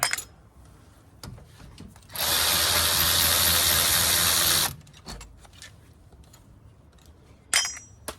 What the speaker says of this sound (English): Once you get your wheel off, you get your 13 mil socket. Get these guys out.